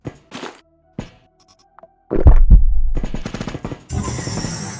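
Turret gunfire in the video game Quasimorph rattles out as loud, rapid bursts of shots. Sparse thuds come before it and a sustained burst follows.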